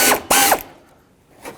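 A hand ratchet loosens a bolt while radiator fans are removed from a 2002-06 Toyota Camry, giving two short close clicking bursts and then a fainter third.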